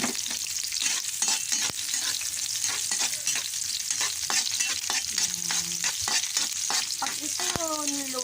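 Onions frying and being stirred in a hot pan for a chicken neck dish, a steady bright sizzle with frequent utensil scrapes and clicks against the pan, close and continuous with no talk.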